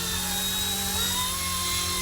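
A helicopter spins up for takeoff as a steady, loud rotor and turbine whine with a constant drone close by and no voices.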